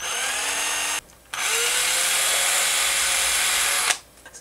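Small power drill boring a 3/16 inch hole into a soft plastic bass worm tail floater, a steady loud whine running twice with a short pause between, close up with no talking.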